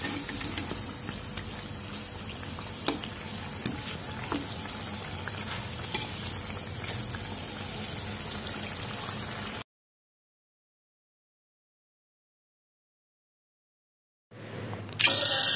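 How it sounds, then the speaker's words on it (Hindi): Samosas and pakoras deep-frying in hot oil give a steady, close sizzle and crackle with scattered pops, then the sound cuts to silence before a brief louder noise returns at the end. "समोसे मैंने फ्राई कर लिए हैं और पकौड़े भी तल चुके हैं"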